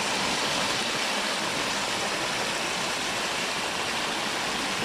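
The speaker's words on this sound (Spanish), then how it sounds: "Me encuentro con un río, un riachuelo." A small river or creek flowing after Hurricane Dolores, giving a steady, loud, continuous rush of water with no pauses and no voices.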